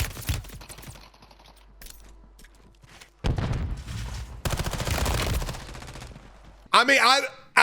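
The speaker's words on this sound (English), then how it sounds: "We have an enemy shooting somebody" Bursts of automatic gunfire from an enemy in Warzone 3, loud close volleys broken by quieter gaps, with a voice talking over parts of it.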